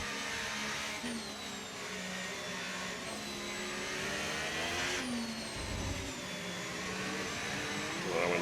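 Formula 1 car engine from the F1 25 racing game, a steady high droning whine held at speed with rising pitch sweeps as it accelerates through the gears, loud and continuous with no talk over it.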